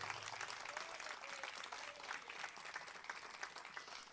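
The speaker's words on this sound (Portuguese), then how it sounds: "Dá uma salva de palmas para o Rei, o Senhor." Congregation at a church service applauding for the Lord, a steady wash of dense clapping throughout with a faint murmur of voices underneath.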